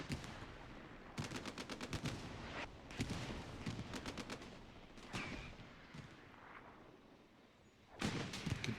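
Rapid bursts of automatic gunfire and booming blasts from a war video game match, loud and dense, with clustered rattling volleys separated by short lulls and a final heavy burst.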